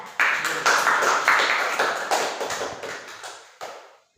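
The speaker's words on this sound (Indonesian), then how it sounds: "Oke, tepuk tangan untuk kelompok 2" A classroom of students claps together for group 2 in a series of sharp, rhythmic, unison claps that fade in loudness toward the end, with a final lone clap.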